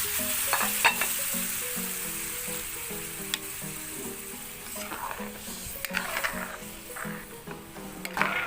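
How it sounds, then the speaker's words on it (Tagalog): Coconut milk sizzling in a hot pan while a utensil stirs and scrapes it, cooking laing; a steady close frying hiss with repeated rhythmic stirring scrapes throughout. "Pwede na po natin ilagay ang gata ng niyog."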